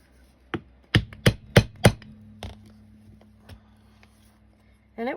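Hole punch hammered through the pages of a book, about six sharp hard impacts in quick succession, then a couple of softer taps, close and loud with a brief rustle at the end.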